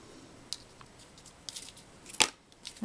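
Several short, quiet snips of scissors cutting, scattered irregularly over a near-silent background, with one sharper crisp cut standing out.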